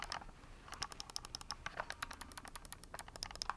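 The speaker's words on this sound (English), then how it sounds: "The triggers right back here are just single clicks" GameSir X2 mobile game controller triggers pressed repeatedly, a rapid run of close, crisp, light plastic clicks in irregular quick succession, quiet and alone.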